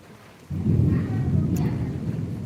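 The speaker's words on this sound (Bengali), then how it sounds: "শুনতে পাচ্ছেন কেমন বজ্রপাত হচ্ছে।" Heavy rain pours outside a window, with a deep rumble of thunder swelling in and holding steady through the roar, loud and close.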